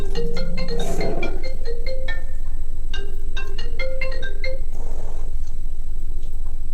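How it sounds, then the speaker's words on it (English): Phone ringtone for an incoming call from a Florida number, a loud melodic electronic chime repeating in short tonal bursts over steady background hiss. "witness Chris's full reaction to a phone call he receives from someone in Angela's family"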